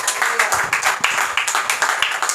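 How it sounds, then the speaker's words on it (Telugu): A church congregation claps together in praise of God during a worship service, a dense run of fast, loud, overlapping hand claps with a steady rhythm filling the whole moment, no speech over it. "దేవునికి చప్పట్లు కొట్టి మహిమ పరుద్దాం"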